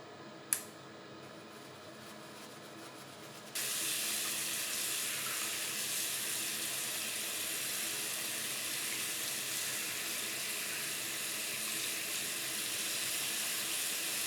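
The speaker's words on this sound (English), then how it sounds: "You can use regular soap and a brush to remove dirt and trapped hair." Braun Series 8/9 shaver parts are washed under running water with soap and a brush. A faint click comes first, then a steady, hissing rush of water that holds unbroken to the end.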